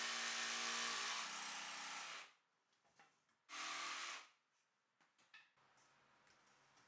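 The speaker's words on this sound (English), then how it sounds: "I can mark that up and cut it out with a jigsaw." A jigsaw cuts a double-socket opening in wall panelling in two loud close bursts, the first about two seconds long and the second shorter, with quiet handling clatter in between and afterward.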